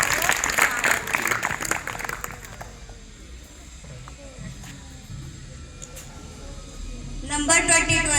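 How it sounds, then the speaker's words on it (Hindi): Students clapping in a school classroom during a constitution quiz, a brisk burst of applause over the first two seconds that fades into quiet room noise before a voice resumes. "तालियां बजाओ"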